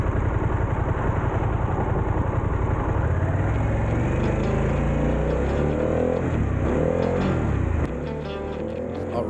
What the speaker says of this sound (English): So today we are riding the 2023 Pan America Special 1250.